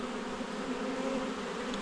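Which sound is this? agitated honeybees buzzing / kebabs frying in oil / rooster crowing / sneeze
agitated honeybees buzzing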